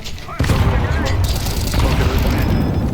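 A flashbang grenade goes off in Counter-Strike 2 with a sudden loud bang, followed by a sustained roaring, ringing wash of noise that stays loud to the end.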